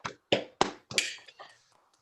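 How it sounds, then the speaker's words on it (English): A handful of separate claps and hand taps sound over a Zoom call at a city council meeting, sparse and uneven, four or five sharp hits followed by fainter trailing ones, close and thin. "let's all give Anthony a big round of applause"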